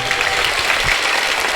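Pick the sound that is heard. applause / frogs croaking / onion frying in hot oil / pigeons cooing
applause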